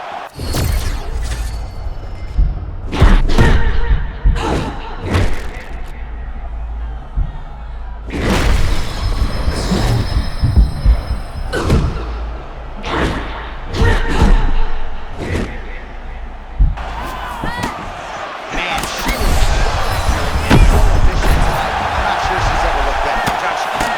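Heavy punches thud and smack in an EA Sports UFC 6 women's fight, a string of sharp loud impacts in bursts with crowd noise and commentary voices running underneath.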